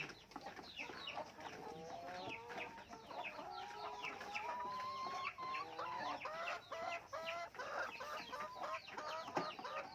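Several chickens cluck and chatter continuously at close range, overlapping calls rising and falling with no talking.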